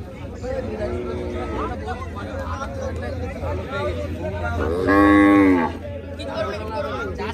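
A cow lets out one loud, drawn-out moo amid the chatter of a crowd at a cattle market in Furfura, with people talking about prices nearby throughout.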